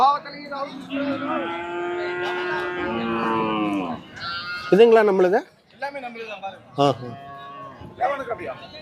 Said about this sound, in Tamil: இங்கே இருக்குது பார்த்தீங்களா மாடுகள்.